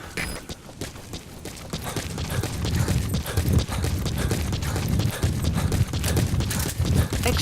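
Steady horse hooves clop in a quick rhythmic gait in the video game Metal Gear Solid V: The Phantom Pain, close and fairly loud, continuing throughout with little else around them.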